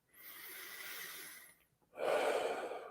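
Two deep breaths drawn in close to the microphone, a long airy inhale followed after a brief pause by a second, louder and rougher breath, with no talking.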